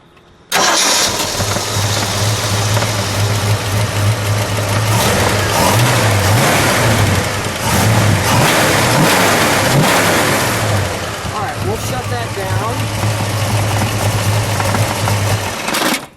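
A 1973 AMC Javelin's 401 four-barrel V8 running loud and close, its steady idle swelling through several throttle blips and revs before settling and cutting off near the end.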